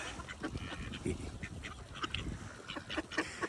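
Ducks gather at a feeding spot, quacking in a busy, overlapping chorus with scattered honk-like calls from the flock, fairly close and steady throughout.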